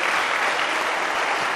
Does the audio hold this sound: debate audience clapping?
yes